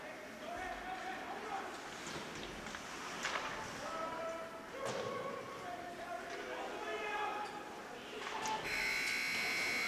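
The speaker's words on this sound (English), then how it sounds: "Buzzer sounds, and the second period has come to an end." Loud electric buzzer at a high school hockey arena ending the second period, a steady sustained tone ringing out near the end over crowd noise and ongoing commentary.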